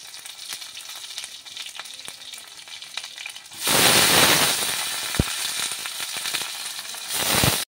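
Onion hits a hot pan and erupts into loud, dense sizzling partway through, after a quieter stretch of faint crackle, then keeps frying steadily close by.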